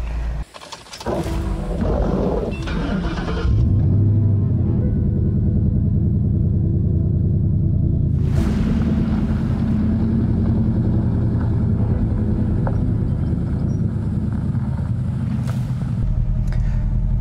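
A 1973 Ford Mustang restomod drives with a deep, loud engine rumble, rising and falling through several rev surges and shifts over about seventeen seconds, with no talking.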